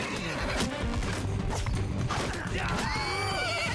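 A horse in Mount & Blade II: Bannerlord whinnies loudly as it is struck in battle, amid clattering hooves and mechanical combat noise, the neigh rising sharply near the end.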